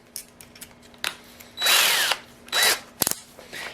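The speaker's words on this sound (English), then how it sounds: "we are going to drill in the center of the handle." A power drill bores into the center of a wooden nunchuck handle in short loud bursts, a longer whirring run followed by a brief second burst, with small clicks and handling noises between.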